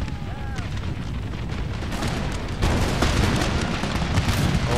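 Soldiers firing muskets in Empire Total War, a continuous loud rumble of crackling volleys and booms that grows heavier partway through, with a faint voice early on.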